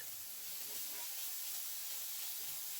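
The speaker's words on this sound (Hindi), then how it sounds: "फिर शामिल करें सब्ज मिर्च और शिमला मिर्च और इनको भी फ्राई करें प्याजों के साथ" Onions, green chilies and bell peppers fry in a pan as a soft, even hiss that is faint and continuous, with no talking over it.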